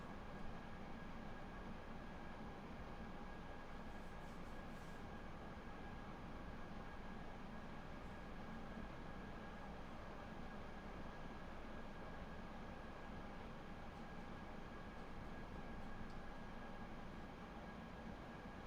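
A train on the Munich to Garmisch-Partenkirchen line runs with a steady low rumble and constant hum, with no breaks and no voices.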